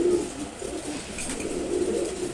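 A male Giribaz pigeon coos close by in low, soft, rolling murmurs that swell and fade over a couple of seconds, with no other sound standing out.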